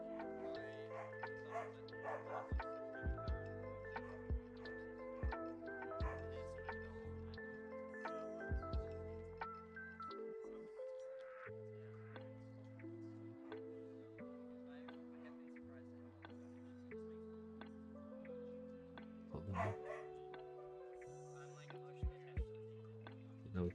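A dog barks and yips in the background at a Star Wars Unlimited trading card game planetary qualifier in a game store, with short yaps scattered over steady tonal background sound and people talking nearby.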